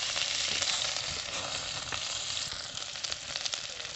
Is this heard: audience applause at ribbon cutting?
no